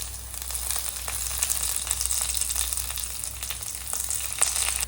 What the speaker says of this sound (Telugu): ఆయిల్ బాయిల్ అయినాక ఆనియన్స్ వేసుకోవాలి. కర్రీ లీవ్స్ వేసుకోవాలి.